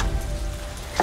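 Rain falling outside at night, a soft continuous patter and hiss filling a brief moment with no voices.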